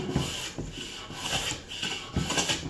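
A Stanley Bailey hand plane shaving timber for a timber-framed table base, cutting through knots in repeated rasping strokes, close and steady with no voices.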